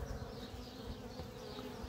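Honeybees buzz in a dense, steady drone over a hive frame of capped brood, a soft, close hum with no voices present.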